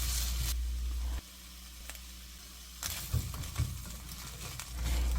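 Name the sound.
onions frying in olive oil in a pan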